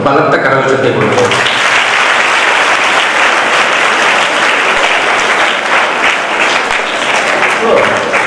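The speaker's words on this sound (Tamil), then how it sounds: "வெங்கட்ராமன் தாசில்தார் ஐயா அவர்களுக்கும் பலத்த கரகோஷத்தை கொடுப்போம்" A loud, dense round of applause fills the hall at a public event honouring the Tahsildar, the crowd clapping steadily throughout after a brief voice at the start.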